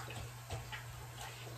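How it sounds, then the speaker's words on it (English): Running water from a tap washes hair product off a hand in a steady, quiet stream, with a few soft splashes and no talk. "let me rinse this out my hand"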